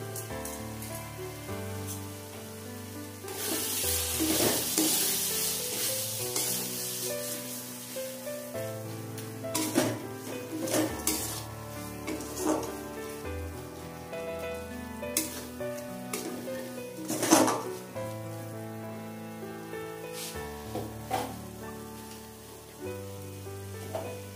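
Spiced masala for a Bengali potato mutton curry sizzles steadily in a pan, with green chili paste and a pinch of sugar added, and the spoon scrapes and stirs through it in irregular bursts.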